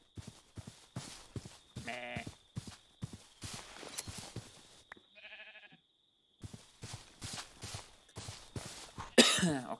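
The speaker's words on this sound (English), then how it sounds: "Okay, another sheep there." Sheep bleat in the RLCraft video game, a few short harmonic calls rising over steady rhythmic in-game footsteps and clatter, with a brief quieter pause midway.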